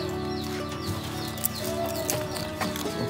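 Large goats in a backyard farm in the Philippines bleat noisily while waiting for banana leaves, several overlapping calls close by amid rustling and a continuous busy background.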